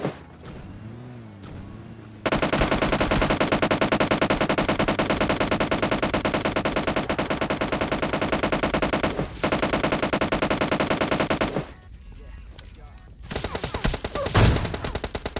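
Sustained automatic machine gun fire in the mobile game PUBG Lite hammers out a dense, loud, continuous stream of rapid shots, breaking off briefly and resuming near the end.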